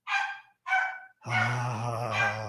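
A pet dog barks at the neighbors: two short yelping bursts, then a longer, loud, sustained whining bark-howl, close by.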